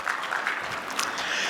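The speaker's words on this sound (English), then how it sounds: "please join us with warm applause" Warm applause from an audience welcoming a speaker at a conference event, a steady broadband patter of many hands clapping at moderate distance, filling the whole moment without any voices.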